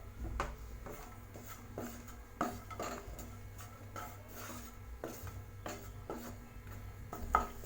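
Cashews and raisins in ghee being stirred in a pan, with a spoon scraping and tapping against the metal in an irregular rhythm over a low steady hum, close and fairly quiet, with no talking.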